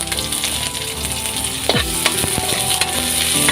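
Garlic and onion hitting hot oil in a pan, a loud, steady sizzle and crackle close up with a stirring clatter midway, no voices.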